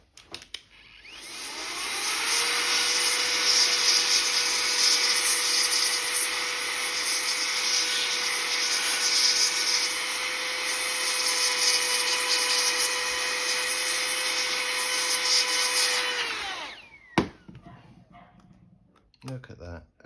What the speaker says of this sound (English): where's my compressed air? Let me dry it out